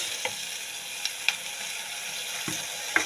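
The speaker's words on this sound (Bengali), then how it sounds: "দিলাইছি পরিমাণ মতন তেল, আর এখন দিলাম পেঁয়াজ, পেঁয়াজ দিলাইছি দিয়া নাড়াটা দিলাইলাম" Onions fry in oil in a pan while being stirred, a continuous close sizzle broken by a few sharp scraping clicks of the spoon.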